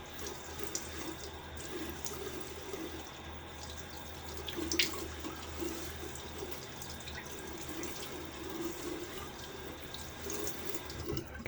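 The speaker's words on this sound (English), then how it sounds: "A little water on the face." A tap runs steadily into a sink while the face is wetted between passes of a safety-razor shave, giving a continuous close hiss of flowing water with faint splashes throughout and no talk.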